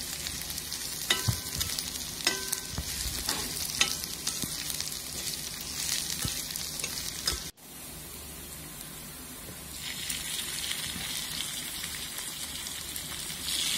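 Chicken liver frying with chilli in a pan over a medium flame, crackling and sizzling steadily up close, with a few sharp pops early on and a brief break midway before the sizzle continues.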